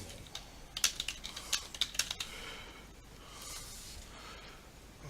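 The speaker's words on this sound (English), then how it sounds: "I cannot type for shit" Typing on a computer keyboard: a quick flurry of clicky keystrokes, fairly close, then a quiet pause with faint background hum.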